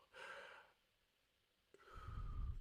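One person draws two breaths in audibly, a soft airy intake followed by a pause and a fuller, louder rushing breath, both close and quiet, without speech.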